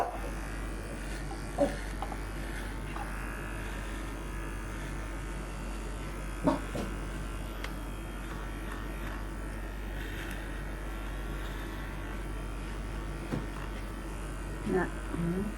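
Electric clippers buzz steadily while trimming a dog named Happy after a bath, a constant close hum with a few brief clicks and bumps, under occasional quiet voices.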